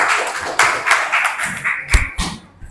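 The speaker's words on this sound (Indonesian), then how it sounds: "tepuk tangan" A small group claps hands during a classroom session, uneven and loose claps with a few louder thumps, fading toward the end.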